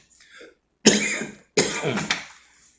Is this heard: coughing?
yes